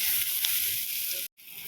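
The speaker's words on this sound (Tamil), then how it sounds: "இது எல்லாத்தையும் கொஞ்சம் நல்லா பரட்டி விட்டு கொஞ்சம் தண்ணி ஊற்றிக்கலாம்." Water poured into spiced masala frying in a pan for a gravy makes a loud, continuous hissing sizzle up close, cut off by a brief silence near the end.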